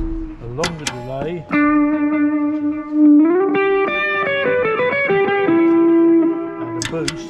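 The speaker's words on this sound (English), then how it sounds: "A longer delay." Electric guitar with a longer delay effect from a foot-pedal rig, sustained distorted notes shifting in pitch with repeating echoes trailing behind, loud and close, short bits of talk at the start and finish.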